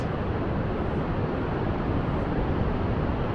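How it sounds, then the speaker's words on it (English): Wind buffets the microphone in the Alps in a dense, steady rush of broadband noise, loud and close, with no other sounds standing out. "A bit of a breeze, sorry about the wind."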